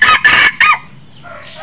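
A Sumatran jungle fowl (ayam hutan) crows once, close and loud, in a harsh broken call of three bursts with a falling tail, followed by quieter background chatter.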